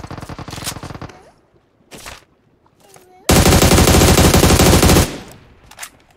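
Automatic gunfire in a mobile battle royale shooter: a short rattling burst at the start, a few isolated shots, then a long, loud, sustained stream of rapid fire close by, with sparse voice nearby.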